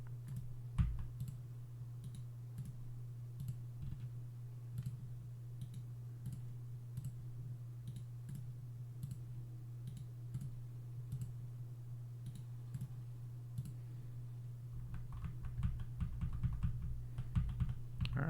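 Computer keyboard keys and a mouse click rapidly and irregularly at close range over a steady low hum, growing busier and denser toward the end, with no voices.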